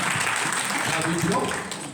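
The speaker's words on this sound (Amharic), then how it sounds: "ቴንክ ዩ አጨብጭቡ ለራሳችሁ ለጌታ" A church congregation applauds in a sustained, even patter of clapping while a voice speaks over it, the applause easing slightly toward the end.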